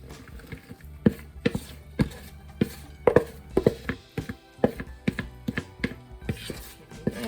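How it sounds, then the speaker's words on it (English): Brussels sprouts are spread across an oiled metal pan with a series of soft, irregular thuds and taps as they drop and are pushed about. The sounds are close and moderately loud, with no talking. "I'm just gonna spread them out onto my oiled pan so that they can all roast properly and evenly"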